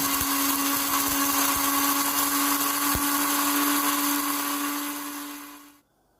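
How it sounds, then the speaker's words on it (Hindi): An electric spice grinder whirs continuously as it grinds cumin, whole coriander and other whole spices, a loud steady high-pitched drone with a few rattling knocks, then spinning down and stopping. "अब हम इसको ग्राइंड करते हैं।"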